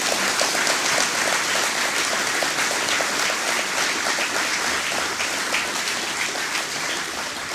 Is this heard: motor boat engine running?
no